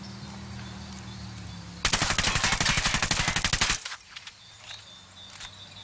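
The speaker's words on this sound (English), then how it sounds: "And that is an actual minigun." A vehicle-mounted minigun in the video game Ghost Recon Wildlands fires one loud, rapid, unbroken burst of about two seconds, then cuts off, leaving faint engine hum and small clicks.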